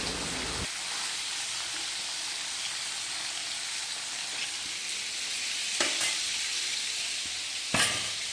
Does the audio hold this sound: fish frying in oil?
yes